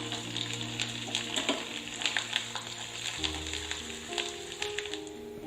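Ginger, curry leaves and cashews frying in hot oil for sweet pongal, a continuous close sizzle with faint crackles and occasional stirring, steady and moderately quiet.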